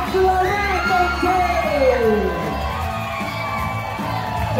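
At a Muay Thai fight, a dense crowd cheers and yells loudly and continuously, with high shouts rising over the roar.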